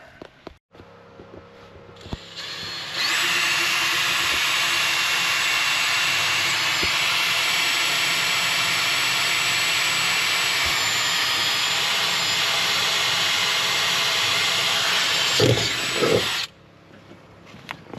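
A power drill bores a pilot hole for pedal mounting on a sim racing rig: a loud, steady whirring run of about thirteen seconds, with brief handling noises before and after.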